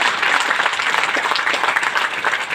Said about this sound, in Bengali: আমি এই আইএমসি ম্যানেজমেন্টের জন্য একবার জোরদার হাততালি চাইব।